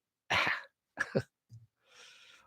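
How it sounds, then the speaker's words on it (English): A man coughs twice in harsh, close bursts, followed by a short grunt and a softer breathy exhale. "Old man coughs at virus"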